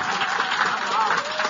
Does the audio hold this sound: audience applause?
yes